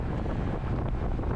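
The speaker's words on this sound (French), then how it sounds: "Parce qu'il y a un tel vent." Strong wind buffets the microphone in a constant low rumble during a cycling race at Ribérac, with no voices.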